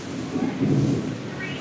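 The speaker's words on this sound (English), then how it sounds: "There's some more thunder." Low, distant thunder rumbles softly and swells for a moment, with a faint hiss in the background.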